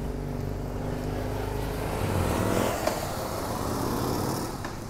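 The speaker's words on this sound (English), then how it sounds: "So many motorbikes." Motorcycles and other vehicles pass on a Swiss mountain road near the Furka pass, a steady engine rumble swelling as one rides by mid-way, moderately distant, with no talk.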